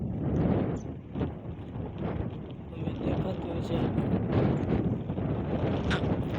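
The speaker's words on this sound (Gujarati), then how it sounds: "પવન છે બહુ એટલે ટોપી આપણે પહેરી લીધી છે" Strong wind blowing across open grazing land, a heavy low rumble of buffeting against the microphone throughout, with a person talking over it.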